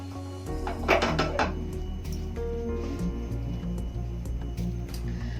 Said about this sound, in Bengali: গ্যাস জ্বালিয়ে কড়াইটা বসিয়ে দিয়েছি।